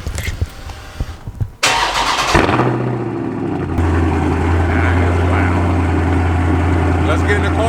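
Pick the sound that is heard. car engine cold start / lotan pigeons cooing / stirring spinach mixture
car engine cold start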